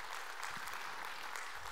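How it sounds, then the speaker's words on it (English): A church congregation applauds during a service, a dense, even wash of clapping from many hands heard at a distance, steady and fairly soft for a couple of seconds. "applaud for that"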